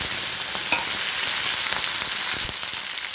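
Chopped vegetables with green chillies frying in a hot pan, a loud, dense, steady sizzle with occasional crackles and light stirring scrapes, close up and without voices.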